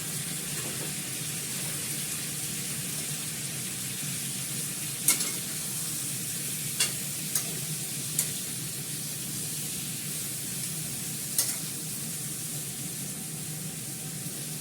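Peas with ginger paste and green chilli fry in a pan with a steady, even hiss that runs throughout, broken by a few soft ticks and pops, close and continuous.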